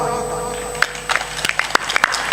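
An audience at a satsang begins clapping, with scattered sharp hand claps that start sparse and pick up into an irregular patter, following a sustained tonal hum at the start.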